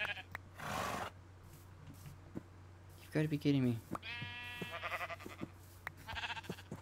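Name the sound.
sheep bleating in Minecraft video game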